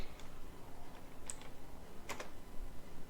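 Someone types on a computer keyboard with light, scattered key clicks and taps, faint and close against a quiet background.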